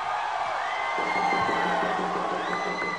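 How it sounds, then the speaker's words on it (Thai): A large crowd of around 500 fans cheers and applauds for Thai boxer Yodmongkol CP Freshmart at a title fight, a steady roar with whoops and shouts rising from the mass of voices. "ขอเสียงปรบมือเป็นกำลังใจให้ยอดมงคล CP Fresh Smart ครับ"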